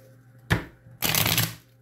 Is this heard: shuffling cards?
yes